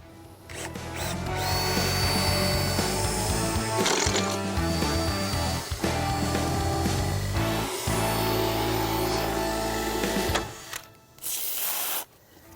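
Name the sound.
drilling into fiberglass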